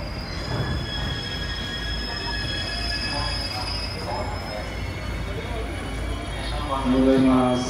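A JR East E721 series electric train runs on the Tohoku Main Line with a steady rumble and a drawn-out wheel squeal that builds toward the end, while a voice speaks in the background.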